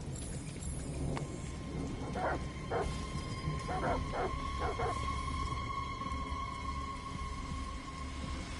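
Dogs bark repeatedly in the distance, several sharp yips and woofs in scattered bursts over a rainy, stormy ambience in the video game Detroit: Become Human.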